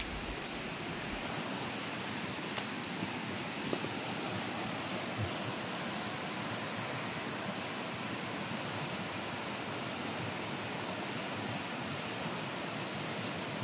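Water flows in a creek with a constant broadband rush, steady and fairly close, with no voices over it.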